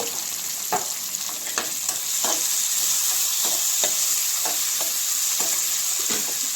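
Onions and tomato fry in a pan for a home-style prawn curry, a steady sizzle broken by the regular scrape of a spoon stirring close by.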